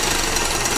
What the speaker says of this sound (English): Now whisk all the ingredients in the other bowl, about 1 to 2 minutes.